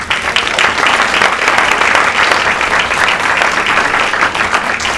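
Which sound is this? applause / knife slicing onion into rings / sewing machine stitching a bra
applause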